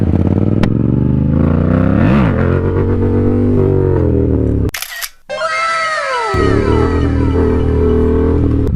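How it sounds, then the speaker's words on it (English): Yamaha R7 motorcycle engine revving hard, loud and close with rising and falling pitch sweeps, cutting out abruptly for a moment before roaring back with another climbing rev, heard as if from an onboard camera. "I'll come by here real quick and pop a wheelie for you if you want."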